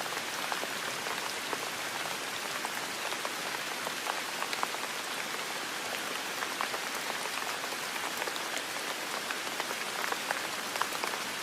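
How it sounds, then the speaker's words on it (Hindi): Rain falls steadily on a surface outside a samosa shop, a dense, even patter of close drops that continues unbroken throughout with no voices. "बारिश हो रही है, दुकान पर भीड़ कम।"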